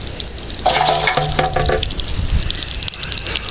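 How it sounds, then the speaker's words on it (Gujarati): Water gushes and splashes steadily from a running tap nearby, with a brief tonal hum early on and some clattering underneath. "જો આપણે પાણી ચાલુ થઈ ગયું છે"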